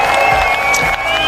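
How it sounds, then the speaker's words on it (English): A crowd cheers and applauds at a speedway Speedway of Nations medal ceremony. The noise is dense and continuous for the whole moment, with a steady tonal ring running through the roar. "Well, raise applause to Slovakia!"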